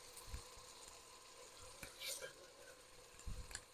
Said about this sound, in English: we're dumping all the garlic